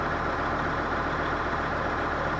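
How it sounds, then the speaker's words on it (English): A tractor engine runs steadily near at hand, a constant low, even drone with no change in pace. "Tractor's running. Seems to be running all right."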